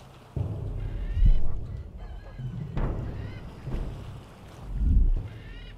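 A hostile bird attacks in the survival video game Survival: Fountain of Youth, giving a few harsh honking squawks amid rushing wind and thumping impacts, loud and near.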